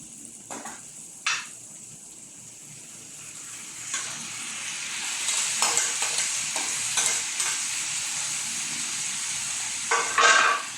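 Sotanghon noodles sautéed in a pan outdoors give off a steady, loud sizzle, broken by occasional scraping stirs of the utensil against the pan.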